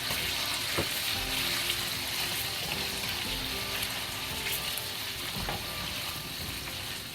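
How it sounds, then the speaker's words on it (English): Bacon frying in hot oil in a pan, sizzling in a loud, continuous hiss with occasional crackles and pops, alone with no talk. "Fry the bacon until the bacon become crispy and the moisture fat from the bacon come out and go to the oil."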